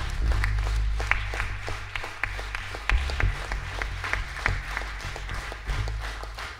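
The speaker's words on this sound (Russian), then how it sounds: "Аплодисменты." Scattered hand claps from a concert audience at a live world-music show, fairly sparse and steady over a low rumbling hum, with no clear talk.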